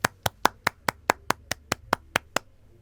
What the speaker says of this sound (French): applaudissons chaleureusement le président qui nous a prêché la parole précieuse de vie